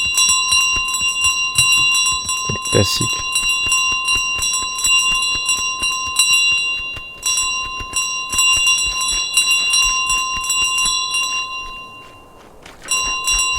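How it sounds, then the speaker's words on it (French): Bells carried by a goose in Untitled Goose Game jingle and ring continuously, a bright sustained chiming with rapid rattling strikes, loud and close, while a voice briefly speaks over them. "Être une oie qui vole des cloches."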